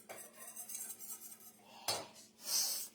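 A whisk scrapes and clinks against a pan while a butter and flour roux is stirred for homemade mac and cheese, with soft rhythmic metallic scraping and a brighter clatter near the end.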